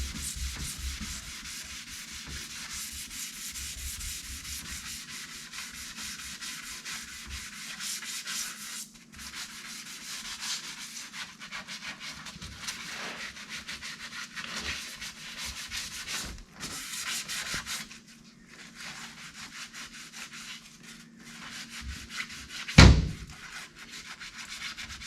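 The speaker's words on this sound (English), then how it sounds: "These are off-brand sanding sponges." Continuous scratchy rubbing of a sanding sponge on varnished teak on a sailboat, steady back-and-forth strokes close up, with a sharp knock near the end.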